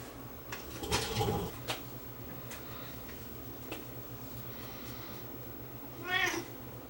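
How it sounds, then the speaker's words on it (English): A house cat meows a few times in a workshop, with a couple of short calls early and a rising, warbling meow near the end over a low steady hum and occasional faint knocks. "Cat's in having a visit."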